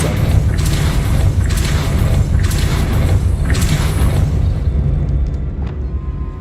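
Depulso spell cast in the Hogwarts Legacy video game: a loud, dense rumbling wash of magical force with repeated surging bursts roughly every second, fading out toward the end.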